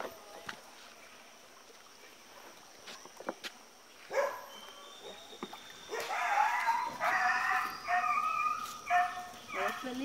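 Dogs bark and yip close by at a home, several excited barks and whimpers building into a steady noisy run alongside a person speaking.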